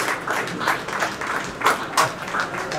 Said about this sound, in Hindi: एक बार जोरदार तालियां अवनीश भाई के लिए।